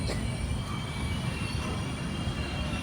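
A train at Kurnool railway station, the Guntur–Aurangabad Express, rumbles with a steady low roar of wheels and carriages, continuous and fairly close.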